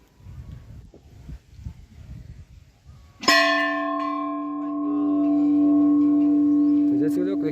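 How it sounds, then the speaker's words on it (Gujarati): A large temple bell at Vanindradham temple in Patdi is struck once, ringing out loud and close, then a long resonant hum sustains and slowly swells. Soft rustling and murmuring come before the strike. "મંદિરનો ઘંટ છે તે એકવાર વગાડીએ એટલે આખા મંદિરમાં સંભળાય છે"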